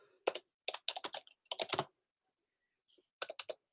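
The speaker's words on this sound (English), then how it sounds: "I'm going to type it" Keyboard typing during a live online sale: several quick bursts of clicking keys, loud and close, separated by short pauses, with no talking.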